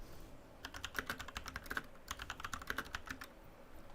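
Fingers type on a modded mechanical keyboard in quick irregular bursts of crisp, clacky keystrokes, with a short gap in the middle; quiet but clear and close, with no talking.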